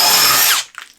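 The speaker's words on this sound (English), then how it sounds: "now we just have a 1/2 inch spider twist bit going through what's a little bit thicker than a 2x4" A power drill with a 1/2 inch spade bit whines loudly as it bores through wood slightly thicker than a 2x4 for about half a second, then cuts off, leaving a few faint clatters.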